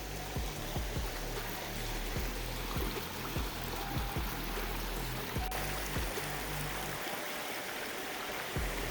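A strong creek current rushes steadily nearby, a broad constant wash of flowing water with repeated low thumps of movement through the stream.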